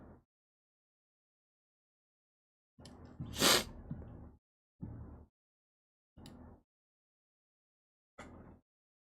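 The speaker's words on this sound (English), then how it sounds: "Oh, I'm gonna sneeze." One loud, abrupt sneeze bursts out amid a few short, quiet breaths and sniffs, close to the microphone.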